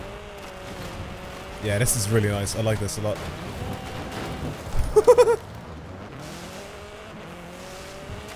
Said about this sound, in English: This is the good off-road buggy